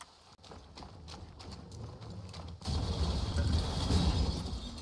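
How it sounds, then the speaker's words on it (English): A horse gallops in the video game Far Cry 6, its hooves clopping in a quick rhythm before a louder, dense rush of crashing and rumbling noise takes over for the second half. "That horse was like, did not want to get ridden. It just ran through like a whole fence."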